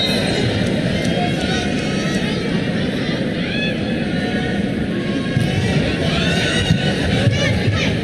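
A large crowd at a university women's volleyball match roars in a dense, continuous wash of cheering and shouting, loud and sustained throughout with no pauses.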